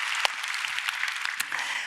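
Church congregation applauding during a Korean Sunday worship service, giving thanks after a prayer; steady, dense clapping fills the room throughout with a few sharper claps standing out.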